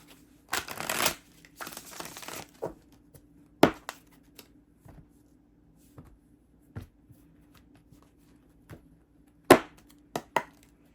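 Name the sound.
shuffling tarot cards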